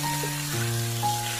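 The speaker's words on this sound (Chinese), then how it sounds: "把西兰花和鸡蛋也加进来，然后翻炒几下，翻炒均匀" Broccoli, egg, wood ear fungus and tomato stir-frying in a wok give a steady, close sizzle beneath a constant low mechanical hum, with no talking.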